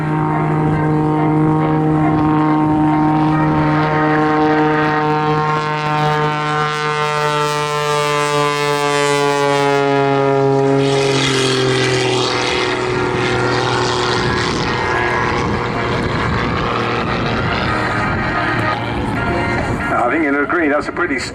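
A Pitts Special aerobatic biplane at the Southport airshow roars past close by. Its propeller engine drone sweeps downward in pitch as it passes, then turns rougher and fades, with an announcer's voice heard over it.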